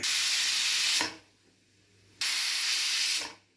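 Pressure cooker on a stove, cooking a bottle gourd and chana dal curry, releasing two loud, close hissing bursts of steam with a whistle, separated by a short quiet gap.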